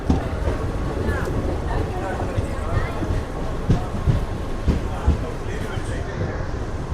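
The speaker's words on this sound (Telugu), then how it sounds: "మన ట్రైన్ వచ్చేసి మదనపల్లికి ప్లాట్ఫామ్ నెంబర్ 1కి అయితే వచ్చింది" The Seven Hills SF Express pulls in at platform 1 of Madanapalle Road station, a rumbling, clattering train noise that runs throughout beneath the hubbub of a crowded platform, with people talking nearby.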